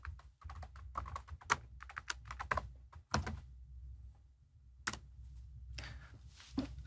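Someone types a SQL username and password on a computer keyboard, sending out quick bursts of close, crisp key clicks with short pauses between them and no talk.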